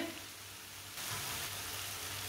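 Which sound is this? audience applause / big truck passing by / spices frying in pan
spices frying in pan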